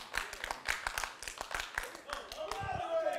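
An audience at a wrestling show claps in a quick, steady rhythm with sharp, distinct claps, and voices murmur faintly underneath.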